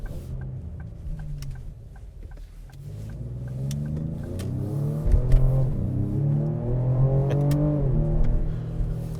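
A Ford Explorer ST engine revs and accelerates, its pitch climbing steadily through the gear, moderately loud and close, with faint ticking in the background.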